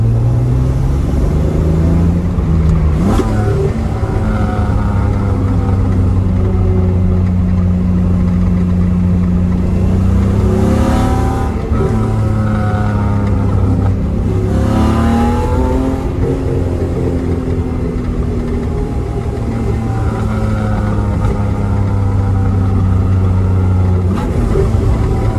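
A car exhaust fitted with a Thrush 17715 Turbo muffler on a Z-Story Race/Sport manifold and centre resonator rumbles loudly up close, revving up and down several times over a deep idle drone.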